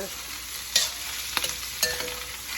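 Vegetables being sautéed in a pan for a seafood udon, with a steady sizzle and a few sharp scraping stirs of a utensil against the pan, close and fairly loud.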